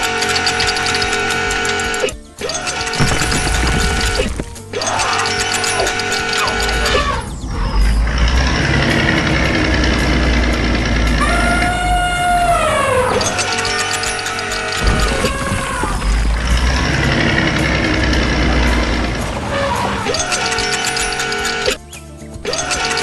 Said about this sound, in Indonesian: Mesin hijau sedang bekerja dengan gigih, menggali di dekat tumpukan batu yang besar